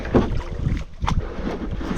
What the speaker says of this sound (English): it looks like another battle of the headwind